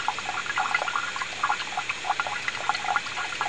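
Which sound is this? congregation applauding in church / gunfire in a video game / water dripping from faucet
water dripping from faucet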